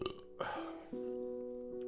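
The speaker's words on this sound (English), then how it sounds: "Freaking Coca-Cola making me burp." A single low, drawn-out burp from someone who has been drinking Coca-Cola rumbles up close and quiet, followed by a steady background tone.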